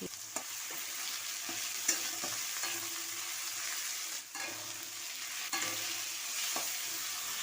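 Ginger paste frying in a pan with tomato and onion. Steady sizzling runs throughout, broken by several sharp scraping stirs of a spoon against the pan, with no talking.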